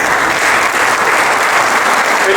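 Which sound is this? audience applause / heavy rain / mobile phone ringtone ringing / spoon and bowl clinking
audience applause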